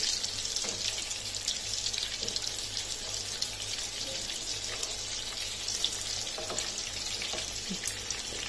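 Eggplant (baingan) slices frying in oil in a pan, a steady close hiss of sizzling with faint crackles throughout, no voices.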